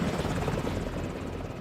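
A US Marine assault helicopter flies steadily overhead, its rotor chop loud and continuous with a dense, throbbing roar.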